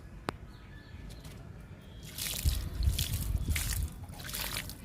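Liquid fertilizer is poured onto potted chrysanthemum plants, a close, steady splashing trickle that starts partway through and continues to the end.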